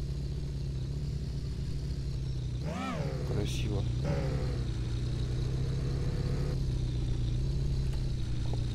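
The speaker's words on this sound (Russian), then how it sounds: "Мы сейчас припаркуем эту машинку." An in-game car engine idles steadily while being parked at night in the video game Car For Sale Simulator 2023, a low continuous hum with a brief rev midway and a person speaking over it.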